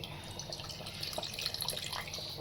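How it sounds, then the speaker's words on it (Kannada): Water is poured into a thick mutton chops gravy cooking village style, making a soft, continuous splashing trickle close by, with faint kitchen clatter and no speech. "ಅದಕ್ಕೆ ಲೈಟಾಗಿ ನೀರು ಹಾಕೋತಾ ಇದ್ದೀನಿ"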